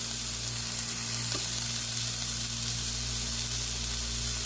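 Sliced onions sizzle on a hot burger grill with a steady, close, unbroken crackling hiss over a low constant hum, and no voices over the sizzling.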